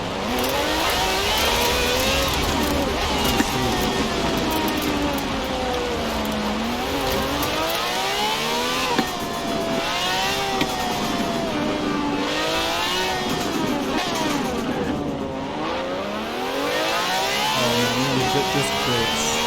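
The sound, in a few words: car engine driving in video game Forza Horizon 4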